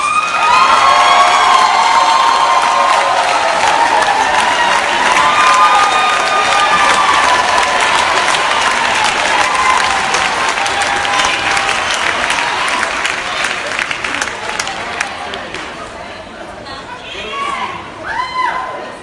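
An audience at a public meeting claps and cheers loudly for a sustained stretch, with whoops and chatter mixed in, before the applause thins and fades toward the end.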